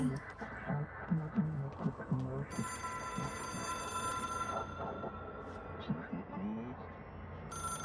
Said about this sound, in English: I'm gonna answer the phone, don't you worry.